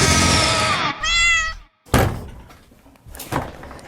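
A cat meows loudly and insistently up close, then a door thuds shut, followed by another short thump.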